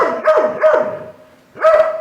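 An angry Doberman barks in a rapid pair of loud, close woofs, pauses, then barks again, each bark sharp and resonant with no voices over it.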